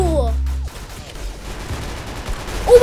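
Gunfire from a new gun in the Roblox game Arsenal: a burst of loud rapid shots at the start, then busy game noise with excited voices.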